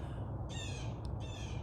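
A crow caws twice in quick succession, each call harsh and fairly distinct above a steady low outdoor rumble, with no voices present.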